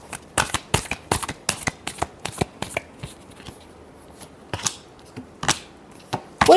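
A deck of tarot cards being shuffled by hand in a series of crisp, rapid riffling bursts, close and loud, with brief pauses between them and no talking.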